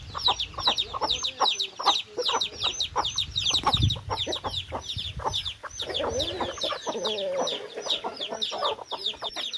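Fan-tail rooster and hens on a farm, with dense overlapping clucks and chirps close by, continuous throughout.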